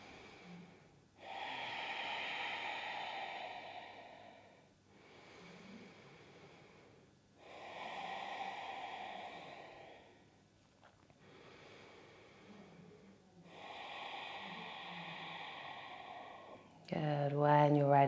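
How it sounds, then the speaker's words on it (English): Slow, deep breaths during a yoga practice for runners, several long inhale-exhale cycles spaced evenly, close and fairly soft, ending with a brief louder rustle. "Let's go for 3 more breaths."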